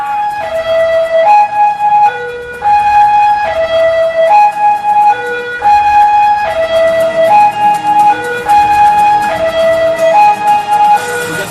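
An ambulance siren wails in a repeating two-tone pattern, loud and close, cycling steadily without pause.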